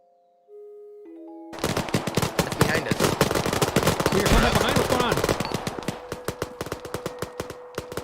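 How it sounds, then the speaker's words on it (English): Rapid automatic gunfire and scattered single shots crackle in the Arma military video game, starting abruptly after a brief tone and continuing loudly before thinning out, while voices talk over the shooting. "Shots are coming from north along the tree line from Foxtrot"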